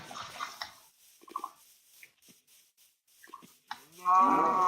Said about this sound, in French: On va aller tuer encore la vache qui est là-bas.